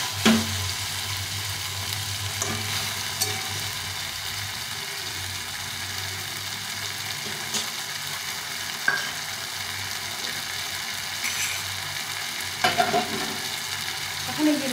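Fish curry with bottle gourd sautéing in a pan, a continuous moderate sizzle under a low steady hum, with a few soft stirring knocks and scrapes scattered throughout.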